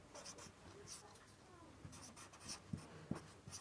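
Chalk or marker strokes on a board during a Hindi geography lesson on the equator, faint scratchy writing sounds in a few short bursts with light knocks, quiet and close with no talk over it.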